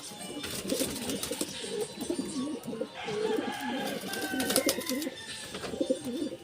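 Pigeons coo in a loft, repeated soft throaty rolling calls close by, overlapping in a steady rhythm with a few faint rustles and chirps in the background.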